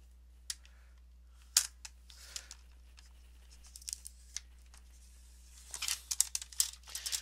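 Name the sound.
cutting paper for a booklet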